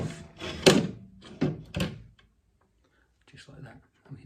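Metal door of a Stovax Vision Midi log burner opened and lifted off its hinges, a few sharp clanks and knocks close up, then a pause and softer rattles.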